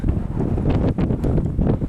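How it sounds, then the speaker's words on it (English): Strong wind on a mountain top in Linville Gorge buffets the microphone in a steady, loud roar with gusty surges and no voices. "Oh man, it's windy up here."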